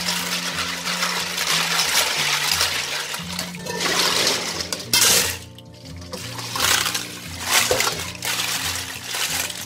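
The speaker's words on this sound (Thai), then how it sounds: "ให้เพื่อนค่ะล้างทำความสะอาดเลยค่ะ" A kilogram of clams is washed in water: continuous splashing and running water with sloshing bursts over a low hum, fairly loud and close throughout.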